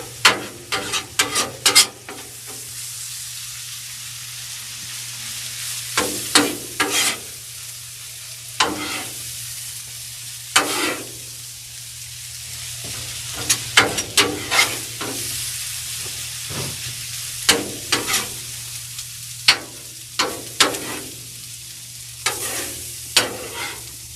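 Pasta and pasta sauce sizzle steadily on a Blackstone flat-top griddle while a spatula scrapes and stirs in repeated sharp clacks and scrapes, close and fairly loud, with no talking.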